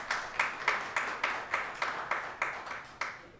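Audience at a public board meeting clapping in a steady, rhythmic beat, about a dozen sharp claps at moderate volume with no talk over them.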